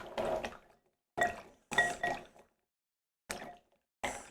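Ofood Diablo Topokki rice cakes stirred in a pot of water, heard as several close, sloshing watery bursts separated by brief silences, with no talking.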